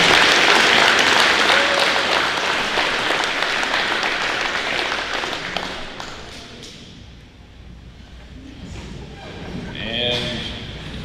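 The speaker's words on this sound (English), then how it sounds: "So one more time, round of applause." At a middle school academic awards ceremony, an audience claps loudly and densely, then the applause thins out and fades over several seconds, with a few scattered claps and a voice speaking toward the end.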